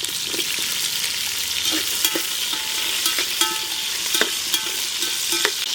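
Shallots and dried red chillies sizzle steadily in a hot pan, punctuated by repeated scraping clicks of a utensil stirring.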